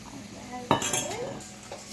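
A utensil clinks against a bowl while egg yolks are stirred into a baking mixture, a sharp knock followed by a brief scraping swirl at close range.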